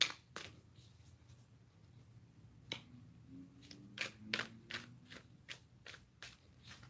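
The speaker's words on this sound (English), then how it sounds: "One more shuffle." Tarot cards are shuffled by hand in a quiet room, a series of short, crisp riffles and snaps, faint and close, coming more quickly in the second half.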